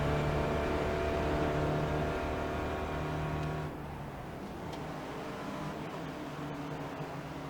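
A race car engine drones steadily around a lap of Brands Hatch in iRacing, a continuous loud buzzing roar with shifting pitch that drops slightly in level midway, with no talk.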